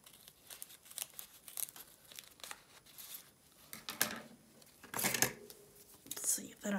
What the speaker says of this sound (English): Let's see that I can really use the right scissors.